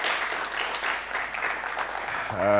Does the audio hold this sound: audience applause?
yes